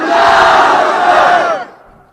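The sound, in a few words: rally crowd shouting a chant in response to Nara-e-Takbir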